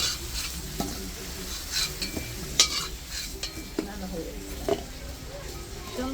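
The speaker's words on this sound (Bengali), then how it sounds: "আলুটা লাল লাল করে ভেজে নিত মাছের ঝোলের জন্য" Potatoes frying in oil in a pan for a katla fish curry, with a steady close sizzle and repeated scraping stir strokes, and voices faintly present at times.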